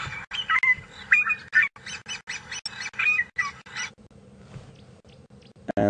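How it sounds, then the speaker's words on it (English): A fork-tailed drongo calls nearby in the African bush on a morning safari drive, giving a rapid string of harsh, twangy squawks and metallic notes before falling quiet. "fork-tailed drongo, a common resident"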